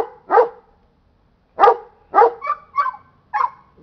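A dog barks on command during guard-dog training on a film set: one sharp bark, a pause, then a quick run of four or five barks, close and loud, with no talk over them.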